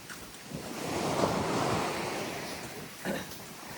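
Sea waves wash onto the shore in a steady broad surge that swells and fades, with wind buffeting the microphone and no voices.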